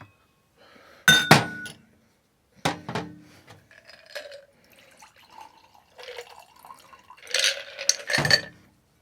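A rhubarb and raspberry cocktail is poured through a julep strainer into a glass: sharp metallic clinks and taps, a thin trickle of liquid between them, then a louder burst of pouring and clinking near the end, close and without talk.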